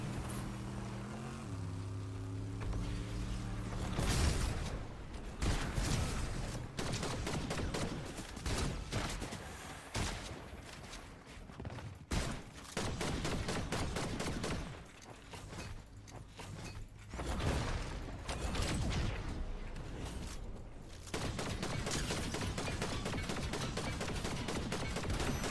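Bursts of gunfire in Fortnite crackle repeatedly over a steady droning aircraft propeller hum, shots coming in rapid clusters throughout, loud and dense.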